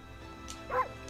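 A dog character in the video game Okami HD gives a single short, yippy bark over a quiet game background.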